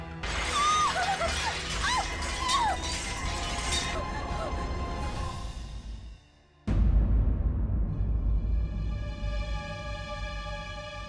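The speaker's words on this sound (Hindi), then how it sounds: "आसमान से हीरों की बारिश, कांच के टुकड़े।" Glass shatters in a horror drama scene: after a busy stretch of sound and a brief hush, a sudden loud crash breaks out, followed by a long, ringing shower of tinkling shards that slowly fades.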